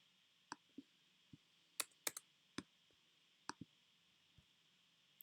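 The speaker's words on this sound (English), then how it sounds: "I think if you type it down in here, it should come up." Sparse, faint keyboard typing on a computer while searching for a tool in Final Cut Pro X: about a dozen separate soft clicks spread unevenly over a few seconds in a quiet room, with no talking.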